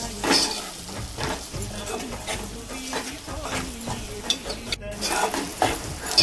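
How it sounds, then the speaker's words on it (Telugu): Ginger garlic paste frying in a pan and stirred with a ladle, with a steady close sizzle and scraping strokes throughout, no talk. "అల్లం వెల్లుల్లి పేస్ట్ మళ్ళీ గరిటెతో తిప్పుకోవాలి"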